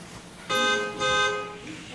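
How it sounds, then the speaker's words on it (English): A car horn honks twice in quick succession, two short loud blasts close by with a brief gap between them. "2 honks on the horn, that's her"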